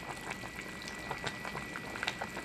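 Chicken tinola soup bubbling in a pot, a busy stream of small popping bubbles at moderate level, close by and unbroken.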